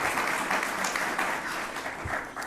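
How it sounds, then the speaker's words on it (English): Audience applause at a county Martin Luther King celebration, a broad, continuous patter of many hands, moderately quiet and somewhat distant, with no talk over it. "I think there was a round of applause"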